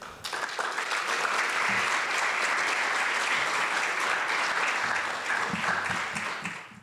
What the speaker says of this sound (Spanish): La invitamos con un fuerte aplauso al escenario.